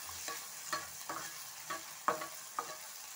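Veg soya keema with onions sizzles in a pan while a spoon stirs it, a soft steady frying hiss broken by several distinct scraping stir strokes at irregular intervals, close and fairly quiet, with no voices.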